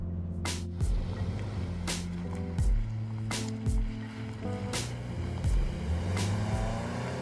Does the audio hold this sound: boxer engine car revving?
yes